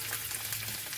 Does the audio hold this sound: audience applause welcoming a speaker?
no